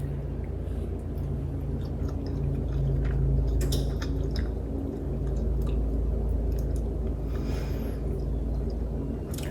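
Someone chews and tastes cooked ramen noodles close up, with soft wet squishing and smacking over a steady low background hum and occasional small ticks.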